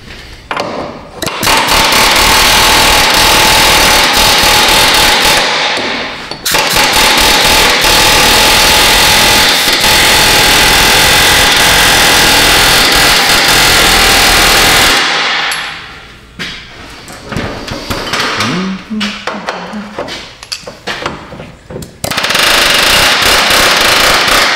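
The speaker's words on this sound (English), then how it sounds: "give it a rattle with the air hammer" Loud, continuous pneumatic air hammer rattling in long sustained bursts on a rusted Subaru subframe, with a brief pause and some lighter clanking before the hammering resumes.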